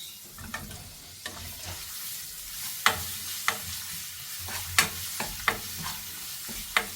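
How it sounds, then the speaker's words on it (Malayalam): Ground ginger-garlic paste sizzling in hot oil in a pan for white mutton kurma, a soft steady fry with sharp spoon scrapes and knocks at irregular intervals, close up with no talking. "അതൊന്ന് മൂത്തതിന് ശേഷം നമുക്ക് വെളുത്തുള്ളി, ഇഞ്ചി അരച്ചത് ഇട്ട് കൊടുക്കാം"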